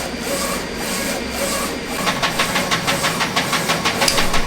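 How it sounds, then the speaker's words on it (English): A direct-to-film printer runs with a steady mechanical whir, then settles into a quick, regular rhythm of pulses as the print head sweeps back and forth. "It's gonna print the color first and then it's gonna start to print the white."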